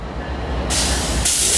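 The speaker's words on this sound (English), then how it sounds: "we have Amtrak train number 11, southbound, Coast Starlight, headed southbound" Amtrak Coast Starlight, train number 11, rolls southbound past a crossing in Oakland, a steady rumble of rail cars joined by bursts of loud hissing air, close and continuous without talk.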